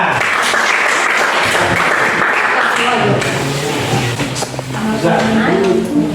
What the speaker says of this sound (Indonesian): kita berikan sekali lagi tepuk tangannya